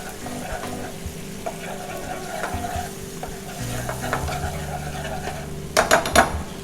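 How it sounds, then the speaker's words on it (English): Thai green curry paste sizzling in a pan as coconut milk is added for a homemade green curry, a steady frying hiss with faint stirring scrapes and a few louder clatters of a utensil near the end. "Then we add our coconut milk. Not too much at the beginning. Emulsify with the coconut."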